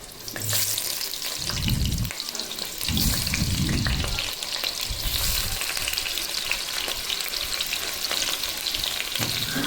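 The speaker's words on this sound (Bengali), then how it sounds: "এদিকে তেল গরম হয়ে গেছে, তেলের মধ্যে দিয়ে দিচ্ছি আলু" Potatoes frying in hot oil for a Bengali chicken kosha: a continuous dense sizzle with bursts of low clattering as the pieces are stirred and turned, close and steady, with no talking.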